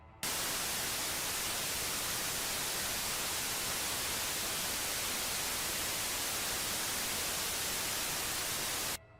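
Harsh, steady radio static over an emergency phone call, loud and unbroken for about nine seconds before cutting off abruptly, with no voices heard.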